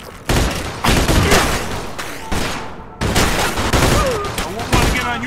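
Loud, rapid gunfire rattles through a shootout in the video game Mafia 2: repeated bursts and volleys fire nearly continuously, with short gaps between them and clattering echoes. A voice may be faintly audible beneath the shots.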